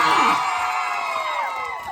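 A dense crowd at a rally in Barangay Balite cheers, whoops and shouts loudly together, with high children's voices mixed in, surging at the start and staying strong before a brief dip near the end.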